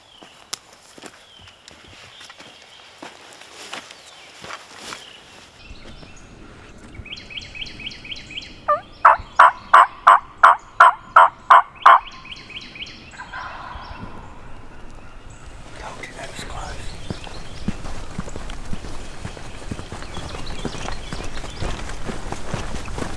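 A wild turkey in the Alabama woods gobbles once in a rapid rattling burst at middle distance, between stretches of footsteps crunching through dry leaves.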